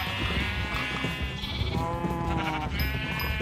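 Sheep in the video game Minecraft bleat repeatedly in a farm pen, several overlapping calls up close over a busy background of game sounds and music.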